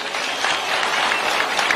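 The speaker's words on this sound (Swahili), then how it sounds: "Wapi makofi kwa rais wetu?" Crowd at a rally in Siaya clapping for the president, a dense steady wash of applause lasting a couple of seconds, loud and even with no single voice standing out.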